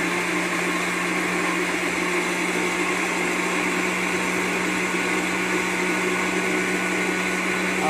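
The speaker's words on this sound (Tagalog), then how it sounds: "blend natin ang ating strawberry" A blender whirs steadily at full speed, puréeing strawberries into a smoothie, a loud continuous motor drone with a strong hum and no pauses or voices.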